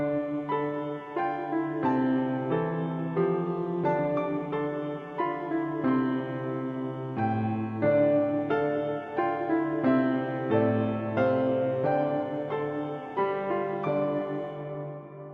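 A short musical passage built as a parallel period, where the answering phrase opens much like the questioning one; a clear melody over sustained harmony plays alone at a steady moderate level for about fifteen seconds.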